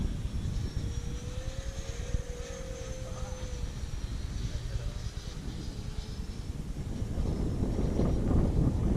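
Gusty wind buffets the microphone at an RC model jet flying field, a low blustery rumble that swells toward the end. A faint whine from a distant jet drifts above it, with possible murmured voices.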